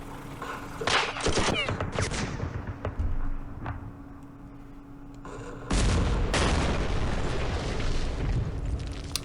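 Heavy tank cannon fire and blasts in a Campaign Series Middle East battle, loud booming bursts rolling into sustained rumbling explosions with a quieter gap midway, then a fresh loud barrage.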